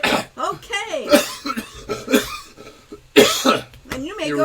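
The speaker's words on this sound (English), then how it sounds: "my cough." Repeated human coughing, several harsh close bursts with throat clearing between them, loud and irregular with brief pauses.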